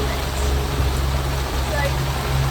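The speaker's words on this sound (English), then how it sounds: "Give the boat a wee bit more of a wash and then we'll switch the rain off." Dense, steady spray of artificial rain pours down on a boat in a constant hiss, like heavy rain drenching a surface, with a low rumble beneath.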